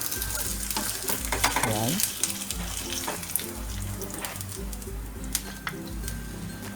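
Eggs frying in a pan for a Spam breakfast plate, a steady close sizzle with occasional scrapes and clinks from a utensil; one short spoken word.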